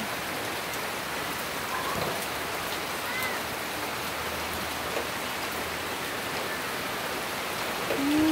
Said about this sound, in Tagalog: Sana tumigil na tong ulan.